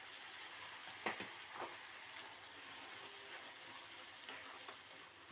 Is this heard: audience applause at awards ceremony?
no